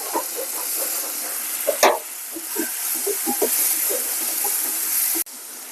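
Tomatoes fry in a pan for a ridge gourd curry and sizzle and hiss steadily up close. A few stirring clinks and scrapes sound over the frying.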